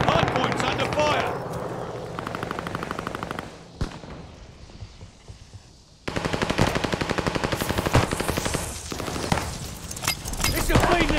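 Automatic gunfire rattles in a Warzone match in rapid bursts, with a brief lull and a single sharp shot before heavy sustained fire resumes, mixed with game voice lines and other in-game sounds.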